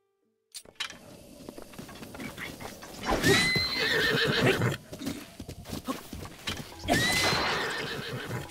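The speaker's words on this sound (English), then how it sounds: "The horse got in the way." Horse neighing twice in Zelda: Breath of the Wild, loud whinnies separated by a few seconds, with clip-clop hooves and game sounds underneath.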